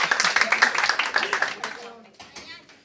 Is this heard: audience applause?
yes